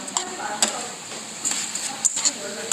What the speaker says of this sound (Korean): 주인 아저씨가 이렇게 우동사리를 양념이 잘 배게 이렇게 볶아줍니다